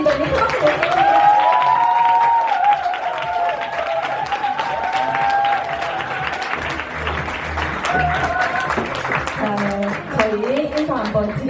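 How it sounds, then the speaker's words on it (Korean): Loud, sustained audience applause welcoming panelists onto the stage at an indoor business presentation, with dense clapping and some cheering throughout and background music or voices mixed in. "큰 박수 부탁드립니다."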